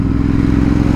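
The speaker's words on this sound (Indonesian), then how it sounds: "Mesinnya sih 2 silinder L twin." The 795 cc two-cylinder L-twin engine of a Ducati Hypermotard 796 supermoto gives a loud, close, throbbing roar during a brief revving burst on a test ride.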